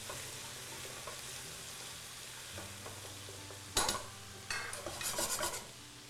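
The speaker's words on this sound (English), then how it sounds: "let's give this a little stir" Food being stirred in a pot over a low, steady cooking simmer, with a spoon scraping and clinking against the pot in a few short, louder bursts near the end.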